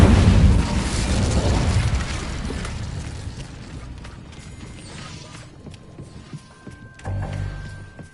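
Incendio fire spell in Hogwarts Legacy, a loud whooshing burst of flame with mechanical rattling that fades over several seconds, followed by a quieter clunk near the end.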